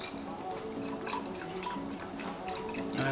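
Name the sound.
pouring skim milk into iced coffee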